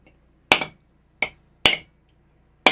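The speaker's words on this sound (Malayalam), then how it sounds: "പിന്നെ നമുക്ക് അവിയലിനുള്ള തേങ്ങ ഉടയ്ക്കാം." A hard, mature coconut for aviyal being cracked open in a caravan kitchen: four sharp, loud knocks at uneven intervals, each a close dry crack that quickly fades, with near silence between.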